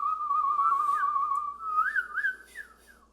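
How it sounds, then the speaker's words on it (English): A person whistles a single wavering melody alone, the clear tone sliding and warbling unsteadily before rising at the end, close and fairly loud with no talking. "That was a terrible whistle."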